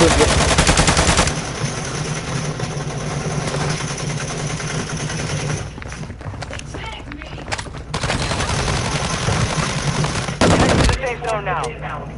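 Rapid automatic gunfire rattles in long sustained bursts, loud and close, with a brief pause and a final sharp burst, while an engine rumbles low underneath.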